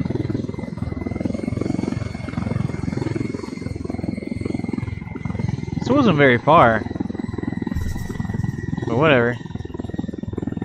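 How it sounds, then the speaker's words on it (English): Helicopter in the game Ghost Recon Wildlands, a steady close rotor thrum with pulsing chop that runs throughout, with someone talking briefly over it. "It's a nice ass helicopter."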